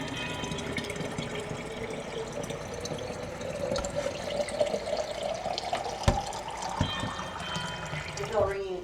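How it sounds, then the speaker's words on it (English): Warm water runs steadily into a container in a sorghum-making setting, a continuous pouring rush whose pitch rises as it fills, with a person talking over it. "And then you just fill it the rest of the way with warm water."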